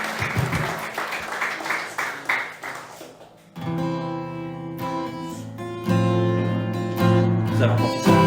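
A church congregation applauding in rhythmic claps during worship, with a voice speaking over them, followed by sustained singing and music.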